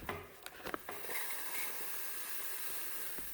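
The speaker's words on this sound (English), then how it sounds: "steam will begin to come out of this nozzle" A Breville Barista Express espresso machine's steam wand lets out a faint, steady hiss of steam after a few quick clicks and knocks at the start.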